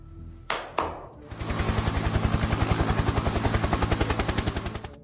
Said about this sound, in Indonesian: Itu helikopter siapa?